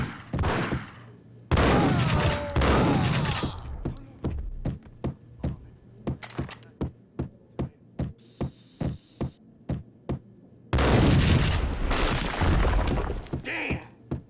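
Gunfire in the video game Max Payne: a rapid run of loud, evenly spaced shots cracks out in a steady rhythm between bursts of denser action noise and game sound, with a low hum underneath.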